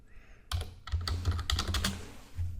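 Rapid typing on a computer keyboard, a close, steady patter of key clicks with a few louder taps, no voice.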